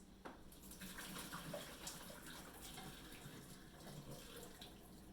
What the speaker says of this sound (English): I am going to drain this real quick, and it's super easy to drain